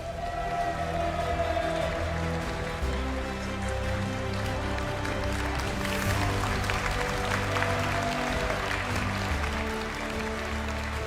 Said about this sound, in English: give a big applause for your Utrecht regional winner, Nessa Beethan.